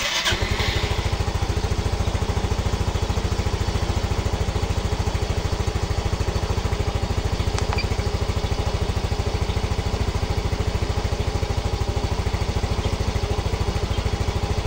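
A Yamaha Mio Soul i 125 scooter engine with an idle fault runs steadily close by, a rapid even putter holding constant throughout with no talk.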